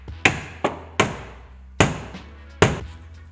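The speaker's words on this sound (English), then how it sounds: "I'm pretty sure that is the transmission tunnel hammering finished." Hammer blows on the sheet-metal transmission tunnel of an S14 car, five sharp metallic strikes at uneven intervals, close and loud with short ringing decays in a quiet space.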